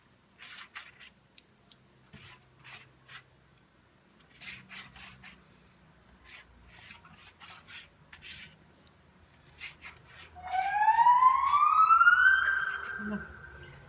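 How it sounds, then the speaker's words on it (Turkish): An ambulance siren rises and wails near the end, after a stretch of scraping and rubbing sounds with faint background noise. "Yine ambulans gidiyor."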